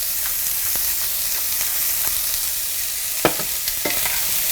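Mushrooms and pork chops sizzle steadily in a pan while being stirred, a close continuous frying hiss punctuated by a few sharp utensil clicks and scrapes.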